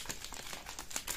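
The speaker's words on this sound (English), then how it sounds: "shuffle them a bit." Close, rapid crinkly flicking of Magic: The Gathering trading cards being shuffled by hand, a quick burst of dry papery snaps lasting about a second.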